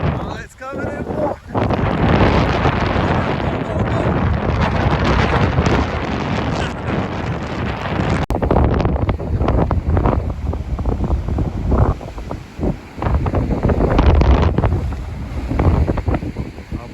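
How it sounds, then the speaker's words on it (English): Hurricane Elsa drives surf and gusting wind onto the beach at Siesta Key, Florida in 2021, with heavy microphone buffeting and roaring waves loud and continuous as people talk over it. "Waves are bigger than they are in the video."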